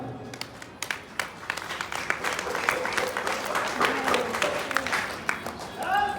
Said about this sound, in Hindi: ये तालियां किस लिए बजाई हम?